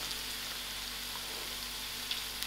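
Pieces of green pawpaw fry in a pan for a curry, giving a soft, even crackling hiss that holds steady throughout, with a couple of small pops near the end and no speech.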